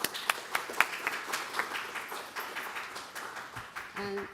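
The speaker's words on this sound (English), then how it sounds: "So please give Sophia a nice round of applause" A small audience claps for host Sophia at an event, with a few distinct claps early on, thinning into scattered, quiet applause, and a voice starting to speak near the end.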